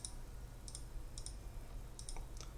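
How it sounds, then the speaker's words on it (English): A computer mouse clicks several times, quiet and close, in small pairs over a low steady background hum. "Oh, clicking on the wrong thing."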